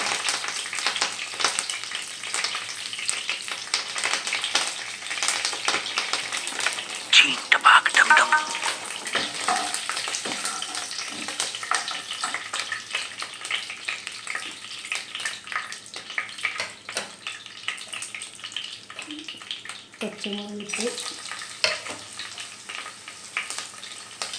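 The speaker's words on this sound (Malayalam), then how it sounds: "ഉരുളക്കിഴങ്ങ് ഇട്ടു സവാള ഇട്ടു ഇതെല്ലാം ഒന്നിച്ചിട്ട് വഴറ്റുന്നതാണ് കേട്ടോ" Potatoes and onions sauté together in a pan with a continuous bright sizzle, broken by spatula scrapes and stirring clatter. A loud burst of contact sounds comes midway, the frying fades later, and a brief low voice is heard near the end.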